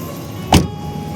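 A car door thuds shut once as people board a car at the end of a trip around Purulia; a single short, fairly close knock over quiet background hum, with no talking.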